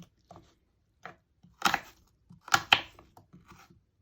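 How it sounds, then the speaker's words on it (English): Knife dicing an apple cut side down on a board, a few sparse crisp chops separated by pauses, close and alone. "it gives you a flat surface for dicing your apple"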